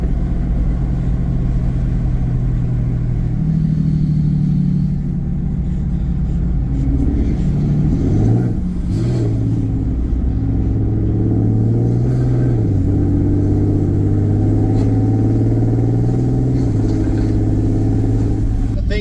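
A 5th gen Cummins diesel truck with a delete accelerates hard, its deep engine drone rising and falling through firm gear shifts, loud and close from inside the cab while people talk over it.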